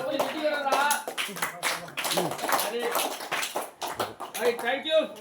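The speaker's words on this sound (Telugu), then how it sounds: "చప్పట్లు కొట్టాలి గట్టిగా అందరూ" An audience claps hard in a quick, dense patter that runs steadily beneath a voice talking over it.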